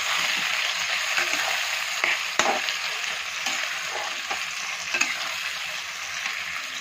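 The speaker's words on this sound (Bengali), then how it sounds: "দেখুন টমেটোটা আমার ভাজা হয়ে আসছে।" Chopped tomatoes for a mutton curry fry in a pan with a constant bright sizzle, broken by occasional sharp clicks of a stirring spoon, with no one talking.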